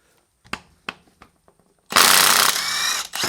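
An impact gun works on the 16 mm transmission bolts of a Mercedes E55: a few faint clicks and taps, then a loud sustained rattling hammer burst that runs to the end, close up.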